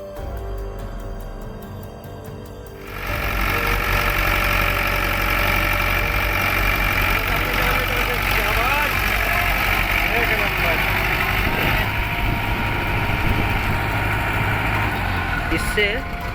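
Tractor engine running steadily under heavy load while pulling free of deep mud with a rope anchored to a tree, a loud continuous rumble after a quieter start.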